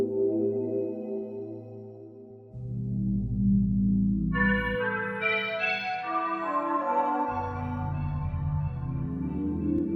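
An eerie one-shot from a horror sample pack used for Silent Hill 2 style music: a dark, sustained tonal drone that swells at two points, with a brighter, bell-like shimmering layer entering midway.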